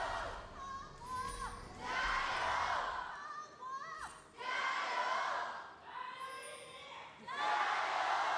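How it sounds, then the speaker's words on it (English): An esports arena crowd at an LPL Summer match between Top Esports and Weibo Gaming roars and cheers in swelling waves as game two begins, while an announcer talks over the noise. "I love to hear the crowd still in it, still with it"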